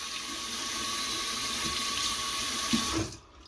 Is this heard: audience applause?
no